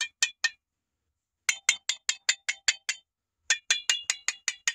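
Sharp high-pitched pings from tapping the metal lid of a large jar of home-canned beets, clear and close, struck in three quick bursts of taps with short pauses between them.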